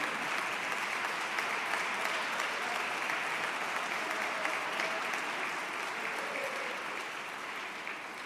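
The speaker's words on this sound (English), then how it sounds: "Give them a round of applause." A crowd applauds a dance team at a Sunday gathering, with steady, dense clapping that carries on without pause and fades slightly toward the end.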